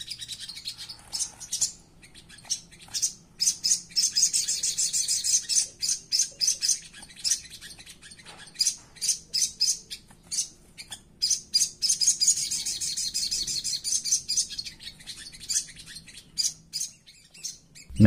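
A small songbird sings busy, high, rapid chirping phrases in repeated bursts, close and lively, with brief pauses between runs.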